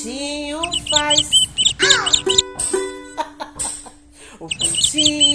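A chick's high chirps are imitated in a children's song about animal sounds: quick, bright peeps repeated several times over a steady melodic accompaniment.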